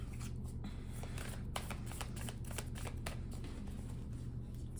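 A deck of tarot cards is shuffled close up in a quiet room, giving a continuous soft riffling patter of card edges with brief crisp snaps.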